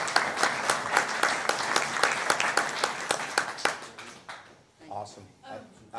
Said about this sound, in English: a round of applause for Jenny.